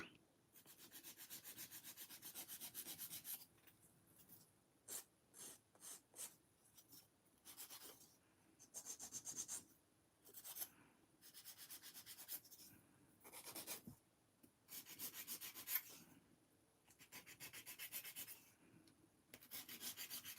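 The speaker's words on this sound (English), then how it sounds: "my habit is using a file, just tidy up the edge" A nail file rubs back and forth along the edge of a fingernail during a nail art session, with close, quiet rasping strokes coming in irregular bursts and short pauses, heard alone.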